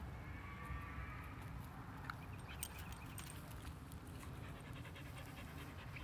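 A dog pants steadily and close while playing with a dead bird, quick rhythmic breaths with a few soft thuds and scuffs, no talking.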